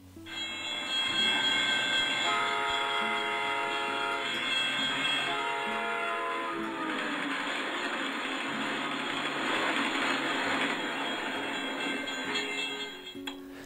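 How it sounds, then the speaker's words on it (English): A train roars past a stationary listener up close, its horn sounding a sustained chord that drops in pitch as it goes by, with rumbling wheels beneath. "hopefully you heard the change in pitch there when the train was passing the stationary observer"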